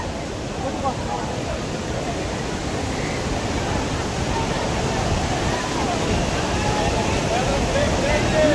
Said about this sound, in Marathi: चल महाकाय धबधबा